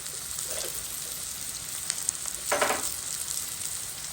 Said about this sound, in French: Je le laisse bien rougir ces oignons.